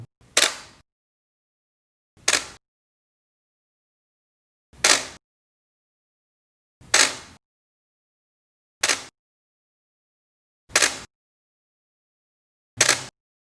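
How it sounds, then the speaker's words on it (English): Seven sharp camera shutter clicks, evenly spaced about two seconds apart, crisp and close with silence between them. "When you are clicking, you should be able to recognize the shutter speed setting from the sound."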